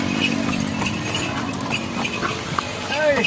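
Horse-drawn cart ride in Palani, with hooves clopping at a light, regular pace under close conversation and a little jingling of harness.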